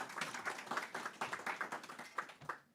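A room full of concert listeners breaks into brief, brisk applause for Joel the sound man, a dense patter of claps that fades out after a few seconds.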